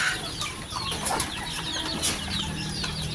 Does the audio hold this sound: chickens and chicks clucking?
yes